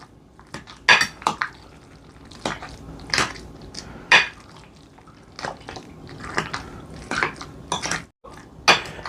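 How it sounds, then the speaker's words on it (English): A spoon and fork scrape and clink against a bowl while mixing a creamy porcini mushroom and burrata ravioli filling, a close series of sharp irregular taps and knocks with quiet gaps between. "we're continuing to mix our get our mixture in here with our spoon and our fork"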